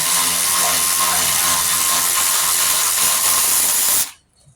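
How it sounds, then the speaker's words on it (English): An electric ratchet spins on the motor mount bolts of a 2007-2012 Nissan Altima, giving a loud continuous hissing whir for about four seconds before cutting off abruptly into quiet. "We're going to swap back to our electric ratchet just for the sake of time."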